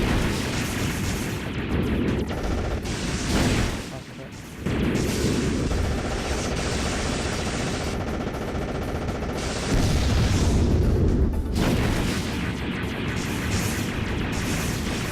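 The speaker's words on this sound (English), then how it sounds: "we're gonna set this, drop that big bomb" Explosions and heavy weapon fire from the video game Novastrike as a big bomb drops, with dense, loud booming blasts and rumbling that continue almost without a break, and no speech.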